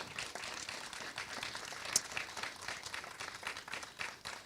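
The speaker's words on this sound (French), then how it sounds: "Je vous invite effectivement à les remercier chaleureusement par vos applaudissements." An audience at a masterclass applauds warmly, a steady wash of many hands clapping at moderate distance, fairly soft and even throughout with no talk over it.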